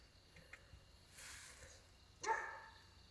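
A faint dog bark sounds at a distance, followed by a louder, sharper bark, with low background rumble between them.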